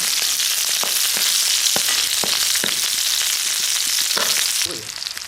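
Oil sizzles loudly in a pan with scattered pops and crackles, then the hiss drops off near the end.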